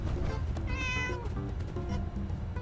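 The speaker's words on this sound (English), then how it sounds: "Hi, Mr. Cat" A cat in the video game Fallout 4 gives a few soft, drawn-out meows over a low, steady background hum.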